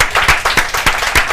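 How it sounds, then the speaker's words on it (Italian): Studio audience on an Italian music show claps in a loud, close burst of rhythmic, somewhat synchronized hand claps, with a faint voice underneath. "Un applauso in studio, vai!"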